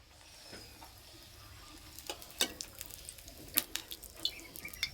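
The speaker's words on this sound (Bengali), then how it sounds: "প্রত্যেকটা পিঠে খুব সুন্দর ফুলছে আর ভাজতে দারুণ লাগছে।" Date-palm jaggery poa pitha batter frying in hot oil: a soft, steady sizzle with scattered sharp pops and crackles that grow busier toward the end, fairly quiet and close, with no talking.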